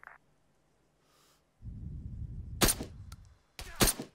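Machine gun bursts in the video game Arma 3, with a few sharp, loud shots standing out over a rumbling low background, separated by short quiet gaps.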